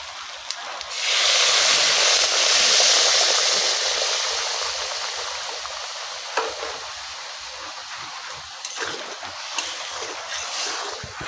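Hot water poured into a Bengali potato and paneer vegetable curry gives a loud hissing gush that slowly fades into bubbling, followed by a few clinks and scrapes.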